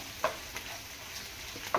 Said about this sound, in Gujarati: આને ચમચાથી હલાવો એટલે એકદમ પાણીનો ભાગ હોય એ બધો બળી જશે અને કાંદા પણ કાચા નહીં રહે